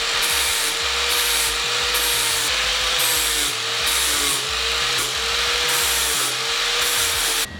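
A power tool grinds and sands down a sharp welded metal edge on a Golf GTI MK3 body under restoration, a continuous harsh abrasive rasp with a steady pulsing rhythm, close and loud with no talking.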